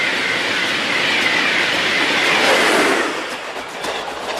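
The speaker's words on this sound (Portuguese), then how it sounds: "Na velocidade do trem-bala." A high-speed bullet train rushes past on a railway, a loud broad roar with faint rail clatter and wheel whine that swells and then eases off, no talk over it.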